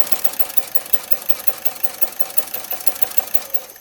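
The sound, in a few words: sewing machine sewing quilt binding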